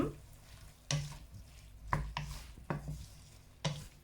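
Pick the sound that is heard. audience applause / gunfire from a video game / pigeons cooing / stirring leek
stirring leek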